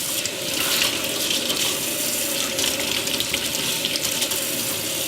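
Cold water running steadily from a tap to soak a stained baby garment, a continuous close splashing hiss that stays even in level from start to finish.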